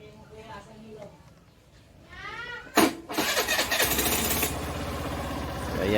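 A Suzuki Burgman Street 125 scooter, just refilled with fresh engine oil, cranks and fires up partway through, then settles into a steady close idle. Voice-like sounds come before the start.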